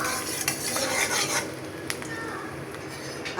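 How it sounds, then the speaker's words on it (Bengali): Kalonji seeds and a little onion stirred in a frying pan for cabbage bhaji, a steady scraping and rasping stir over a faint sizzle, close and fairly quiet, with no talking. "এখানে দিয়ে দিলাম কিছু কালি জিরা আর এটাকে আমি একটু সামান্য নেড়ে ছেড়ে দিলাম"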